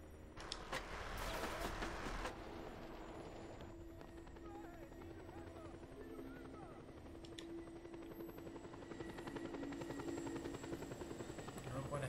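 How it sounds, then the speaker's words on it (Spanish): A helicopter in the video game Just Cause 2 drones continuously with a steady rotor hum, joined by an early burst of gunfire and clattering effects. "Vi un helicóptero."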